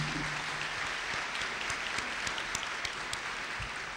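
An audience at a partners-in-education breakfast applauds steadily throughout, a dense, even wash of many hands clapping from a room-filling crowd, with no voices standing out.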